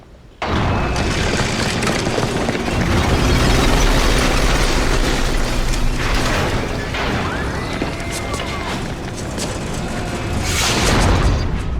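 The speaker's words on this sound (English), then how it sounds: "We blow them up with a borrowed rocket launcher" Rocket launcher blasts destroy tanks outside Dr. No's base in the video game GoldenEye: Rogue Agent, heavy booming explosions and crashing debris layered over constant loud game noise, with bursts swelling near the middle and end.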